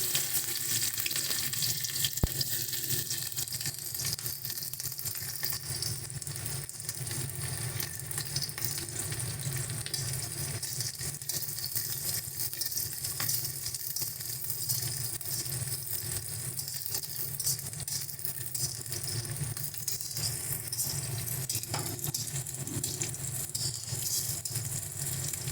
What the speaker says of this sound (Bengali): এবার এর মধ্যে আমরা পেঁয়াজটা ফোড়ন দিচ্ছি।